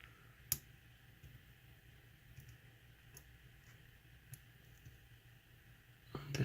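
Lock pins clicking as a lock is picked, heard as faint, sparse, isolated clicks close by over a low steady background hum, with a sharper rattle at the end.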